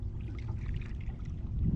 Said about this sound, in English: And a little bit of gentle sound with the water lapping the hull.